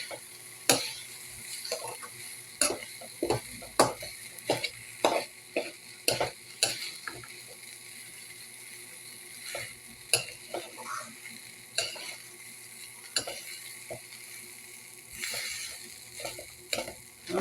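A spatula scrapes and knocks through fried rice in a pan after soy sauce goes in, irregular clacks and scrapes over a soft, low sizzle, close up with no talking.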